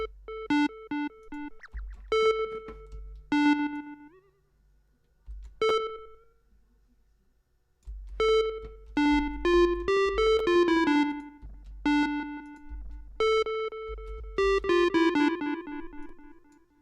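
Synth tones processed with a delay effect in Bitwig Studio play as a series of bright, bell-like notes. Each note is followed by fading repeats, and the notes come in short phrases with gaps between them. No voices are heard.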